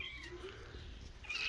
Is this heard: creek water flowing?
no